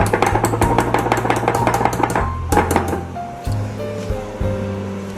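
Malai and mascarpone are whisked together for mango shrikhand, a close, quick rhythmic tapping and swishing of a whisk in a bowl that slows and softens toward the end.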